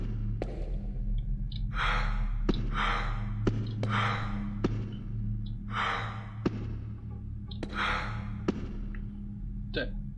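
Heavy, rhythmic monster breathing from the video game Doorways: Old Prototype, a run of slow breathy rasps about once a second over a low droning ambience, with occasional sharp thuds.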